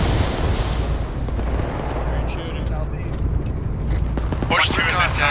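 Gunfire and explosions in the military video game ArmA 3 during a convoy push along a road. Dense, rumbling, continuous shots and blasts roll on throughout, with a voice talking over the battle noise.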